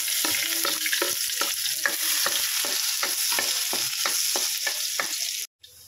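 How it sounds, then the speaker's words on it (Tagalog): Garlic hits hot cooking oil for native-chicken tinola, a bright continuous sizzle punctuated by regular scraping stirs of the utensil, loud and close, before the sound cuts off abruptly near the end. "So ayan, mainit na yung mantika natin. Lagyan natin yung bawang."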